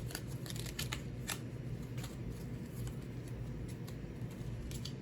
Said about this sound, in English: That was a crazy shuffle, so I'm going to shuffle it again